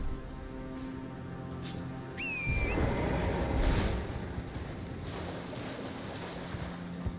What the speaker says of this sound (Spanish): Río de aguas peligrosas.